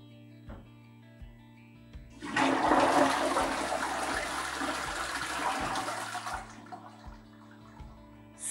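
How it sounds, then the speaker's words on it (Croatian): A toilet cistern, freshened with a cleaning tablet, is flushed into the bowl: a loud rushing gush of water sets in after a quiet start, runs for about four seconds, then fades to trickling refill. "pa ćemo pustiti vodu u školjku"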